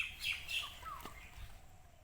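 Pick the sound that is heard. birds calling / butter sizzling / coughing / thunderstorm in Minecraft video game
birds calling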